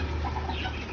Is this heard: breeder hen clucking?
yes